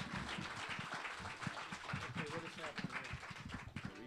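Applause from a museum panel audience for a music producer, steady dense clapping with voices murmuring underneath throughout.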